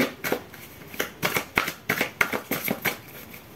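Tarot cards being shuffled and laid out by hand: a rapid run of close, crisp papery flicks and slaps, repeated in quick rhythmic bursts with no one speaking.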